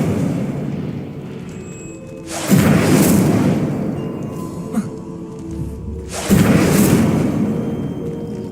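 Casting the Incendio fire spell in Hogwarts Legacy brings two loud fiery bursts a few seconds apart, each a sudden whooshing roar that swells and slowly dies away over a low game ambience.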